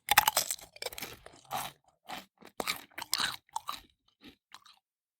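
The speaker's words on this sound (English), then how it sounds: "toddler siblings walk around the house crunching on snacks" Toddler siblings crunching on snacks around the house, a run of close, crisp bites and chewing bursts with short pauses between them and no talk.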